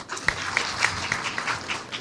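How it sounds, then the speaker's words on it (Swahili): A crowd at an outdoor burial service in Embu gives brief scattered clapping for a former Meru County governor, a few distinct claps in a loose rhythm, moderately distant. "Makofi yake."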